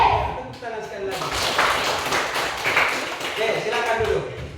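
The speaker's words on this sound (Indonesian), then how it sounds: "Tepuk tangan sekali lagi." A classroom of children claps together, a dense, fairly loud burst of clapping that continues steadily, with voices mixed in at the start and end.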